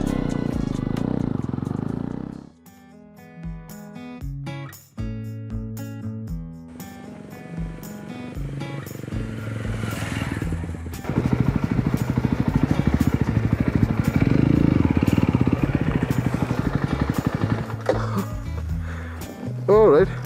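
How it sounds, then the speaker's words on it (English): A 2025 Yezdi Roadster motorcycle ridden on the road from Mysore to Coorg, its engine thrumming steadily with irregular gaps and rising revs later, close and loud, while someone talks over it. "a nice motorcycle to explore it"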